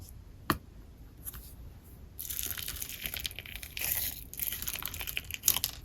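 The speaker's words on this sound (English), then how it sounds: "Mixing in the add-ins add a little crunch and texture into the slime" Store-bought rainbow slime is worked by hand with crunchy add-ins mixed through it, giving close, continuous wet crinkling and crunching squelches with a few sharper clicks, no voices present.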